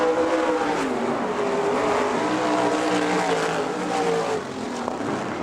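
410 sprint cars racing at Butler Motor Speedway in Quincy, Michigan, loud high-revving engines roaring past close by in a continuous howl, with pitch rising and falling as the cars pass.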